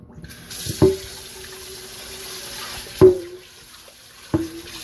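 Water from a kitchen tap runs in a faint, steady stream while oxtails are rinsed in a pan, broken by three sharp clanks at irregular intervals.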